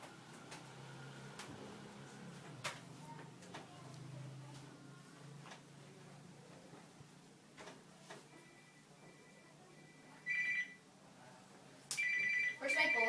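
A mobile phone ringing indoors during a family drama scene, its repeated electronic ring bursts arriving near the end after stretches of quiet room noise and faint background voices.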